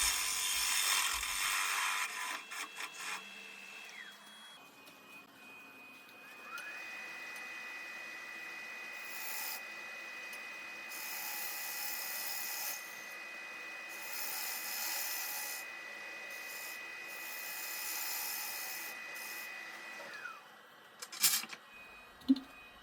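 Woodturning on a lathe, cutting the mating joint of a bowl: a steady high whine of the spinning piece with intermittent scraping of the tool, stopping near the end with a few knocks.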